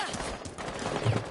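Gunfire striking the player in a video game, a quick cluster of shots with rattling hits, fairly faint under ambient game noise and a voice.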